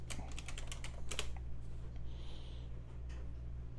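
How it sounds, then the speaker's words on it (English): Rapid keystrokes on a computer keyboard, a quick burst of clicks in the first second and a half, then softer scattered taps over a steady low hum. "let me type this in really quick"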